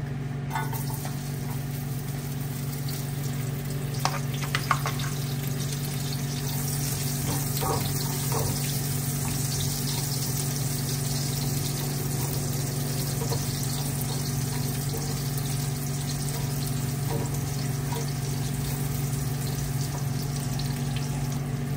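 Garlic sizzling in hot olive oil in a pan, a steady close frying hiss that holds throughout with a few faint clinks and no talking.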